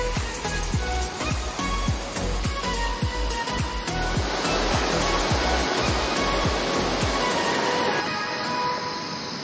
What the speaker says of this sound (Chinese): 你看，瀑布哎。